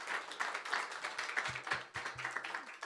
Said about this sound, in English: A big round of applause for the speaker.